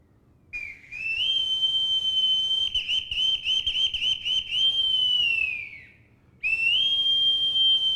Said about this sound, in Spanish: como el silbido o el pito marinero